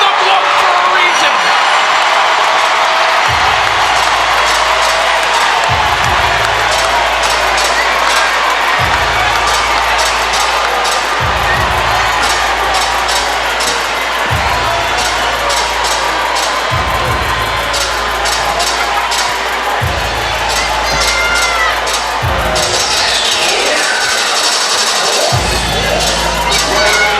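A large crowd at a boxing fight in Flint cheers and roars loudly and steadily after the bout, with whoops and shouts throughout and a commentator talking over it.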